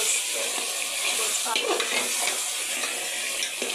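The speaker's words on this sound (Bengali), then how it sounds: "এদিকে এই যে গোশটা রান্না হচ্ছে" Meat cooking in a pot gives off a steady close sizzle and hiss, with scattered scraping and stirring clinks throughout.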